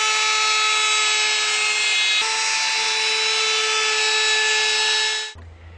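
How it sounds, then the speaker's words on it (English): A router cuts a radius edge into the ends of deck boards, a loud, steady high-pitched motor whine with a drop in pitch partway through, then it winds down abruptly near the end. "we're going to use a router to add a radius edge to the end of the deck boards to match the sides"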